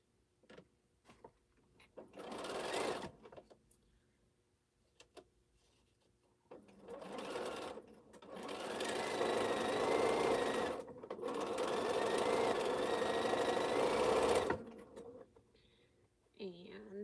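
A sewing machine stitches fabric pieces for a quilting project, with short bursts of whirring and then two long steady runs of the motor and needle, close and fairly loud, separated by quiet gaps with faint handling noise.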